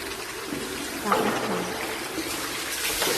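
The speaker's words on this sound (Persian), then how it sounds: "من اینجا یه آب سردی ریختم تو سرم" Cold water is poured over a person's head in a Turkish bath, a continuous loud rushing splash that lasts throughout, with faint echo in the tiled room.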